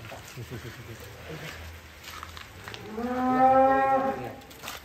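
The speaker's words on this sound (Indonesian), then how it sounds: "Ini sapi monster." A large contest cow lets out a deep, drawn-out moo, loud and close, after a stretch of background talk and murmuring.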